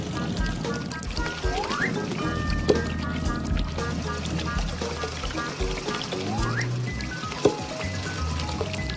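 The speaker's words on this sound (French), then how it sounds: "Les petites voitures se lavent les roues" Cartoon water splashing and pouring as little cars wash their wheels, set under bright children's music with a voice talking over it.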